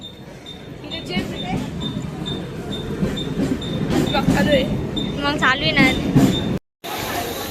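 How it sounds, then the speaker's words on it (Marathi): A Mumbai local commuter train rumbles and clatters along, with a steady high whine and wheel squeals, while people talk nearby. "आता आम्ही फायनली लोकल ट्रेन मध्ये बसलोय."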